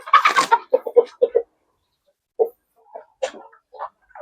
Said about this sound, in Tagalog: Ito po yung kanyang partner na Brahma hen.